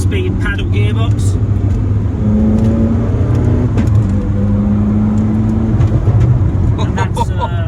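A 2020 Zenvo TSR-S with its 5.8 litre twin-supercharged V8 makes a deep, steady engine drone with a slight rise in pitch partway through, loud and close throughout.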